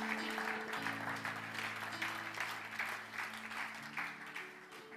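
A church congregation applauds loudly for the Lord, dense sustained clapping with a musical drone beneath that fades slightly toward the end.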